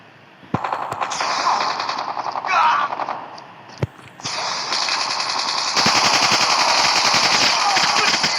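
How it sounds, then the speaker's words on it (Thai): Automatic gunfire in the video game Call of Duty Mobile, loud rapid bursts with sharp single shots, near and sustained, under faint game ambience. "โอ้ โดนยิงอีกแล้ว"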